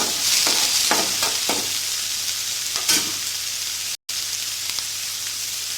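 Snake gourd pieces fry in a pan with a steady, close sizzle and a few stirring scrapes, broken by one brief dropout of silence, with no voices.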